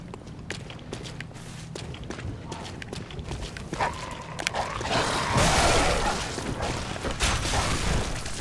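Enemy dogs in Bloodborne, barking and yipping among footsteps and clanking combat sounds, growing busier and louder partway through.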